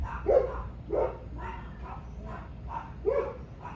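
Several dogs bark repeatedly at a moderate distance, about five or six sharp barks in an uneven rhythm over a low background hum.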